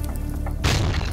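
A large cement fragment drops onto the floor right in front of someone inside a building, hitting with a single heavy, booming thud after a quiet stretch of low background noise.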